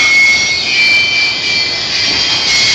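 A jet aircraft speeds up, its engine a loud, steady high-pitched whine and roar that holds constant and close throughout.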